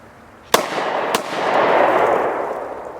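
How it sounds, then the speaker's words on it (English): Two sharp, loud gunshots from a Double Tap Defense tactical pocket pistol, about half a second apart, each followed by a lingering outdoor echo and rumble. "So let's go ahead and fire the first 2 and we'll do the reload."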